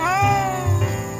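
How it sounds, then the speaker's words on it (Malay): Cat meowing close by, a single drawn-out, rising-and-falling meow with clear harmonics, heard alone without talk. "Ada juga kucing-kucing nampak."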